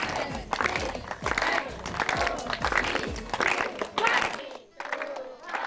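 Studio audience applause on the Telugu game show Gadasari Atta Sogasari Kodalu 2: a dense wash of hand clapping that carries on for several seconds with voices mixed in, then dips briefly before resuming.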